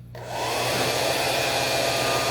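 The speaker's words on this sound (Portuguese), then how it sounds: "A gente pode utilizar um secador de cabelo, ó." A hair dryer starts up and runs with a steady, loud, full-bodied whoosh, used to warm material while crafting a double pencil case.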